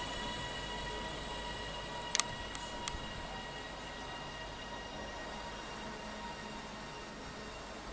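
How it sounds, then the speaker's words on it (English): A Class 195 passenger train, unit 195128, passes through platform 3 of a station with a steady, moderately distant rumble and a couple of brief wheel squeaks early on. No one speaks. "Train pulling into, well, passing through platform 3's 195128."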